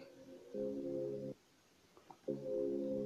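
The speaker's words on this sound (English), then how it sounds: "this is how my chord sounds like" A smooth amapiano chord patch programmed in FL Studio Mobile for a sgija-style beat plays two sustained chord stabs with a short gap between them, soft and alone.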